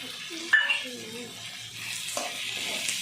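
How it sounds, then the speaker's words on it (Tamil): Coconut, roasted gram and poppy seeds sautéing in a pan for country chicken gravy, a gentle sizzle with a couple of spoon knocks against the pan and some faint background voice. "அதையும் போட்டு நல்லா வதக்கிக்கலாம்"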